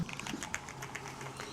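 Light, quiet typing on a Keychron computer keyboard, a scatter of soft individual keystroke clicks spread over a second and a half with no talking.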